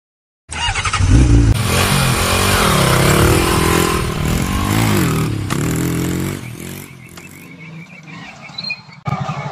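A motorcycle engine revs loudly close by, its pitch climbing and falling in waves, then drops to a rougher idle with a few short bursts.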